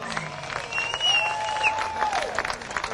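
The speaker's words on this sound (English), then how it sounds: "Big round of applause" A crowd claps in warm, sustained applause for a group of women, steady and fairly close, with a faint voice and a whistle-like tone cutting through briefly.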